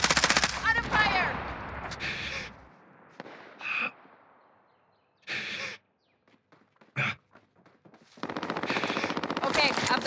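Gunfire crackles in Call of Duty: Modern Warfare, bursts of automatic fire and sharp shots spread across the clip with quiet gaps between them.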